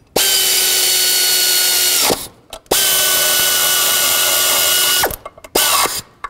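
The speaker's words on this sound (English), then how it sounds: "Start both of these, and I'll snug them up." A power tool, likely a drill or impact driver, runs up on bolts of a 1999-2003 Toyota Solara engine timing cover in two sustained loud bursts of about two seconds each, then a shorter final burst after a pause.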